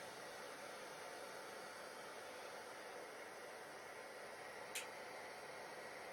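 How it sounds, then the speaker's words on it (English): A hair dryer blows over epoxy resin in a steady, even airy whoosh for several seconds, with one brief click near the end. "just blew it out with the hairdryer"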